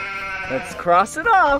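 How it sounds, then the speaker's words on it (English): A cartoon sheep bleats in a short wavering call, loud and close, as a speaker talks over it in a farm-animal egg-hunt bingo scene for toddlers. "It's a sheep."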